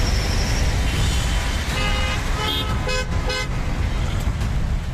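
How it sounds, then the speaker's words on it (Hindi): Car horns honk repeatedly over a dense traffic rumble in a jam at the Delhi–Noida border, several toots overlapping in the middle of a steady, loud roadway roar. "दिल्ली नोएडा बॉर्डर पर भी लंबी लाइनें हॉर्न बजा रही हैं"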